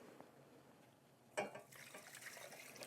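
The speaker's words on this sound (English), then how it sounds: "And now I'm going to pour in my stock" Chicken stock poured into a soup pot for chicken and leek soup, a brief splashing gush of liquid rising from a quiet kitchen, then a steady trickling fill.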